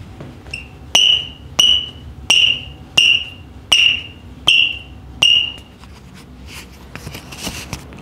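Ortuseight Forte Solstice futsal shoe squeaking as it is handled and flexed: a series of eight sharp, high-pitched squeaks at a steady rhythm, close and fairly loud, then softer rustling and faint handling noise.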